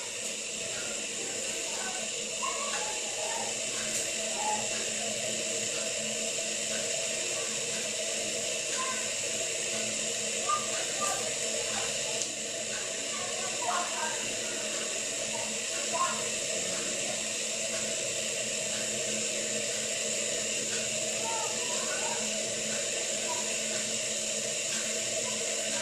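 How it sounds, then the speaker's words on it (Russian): An Esbit CS585HA solid-fuel tablet camping stove heats water toward a boil, giving a steady, faint hiss of steam with occasional small crackles and pops over a long stretch. "Слышно шум. Идет пар, то есть момент кипения"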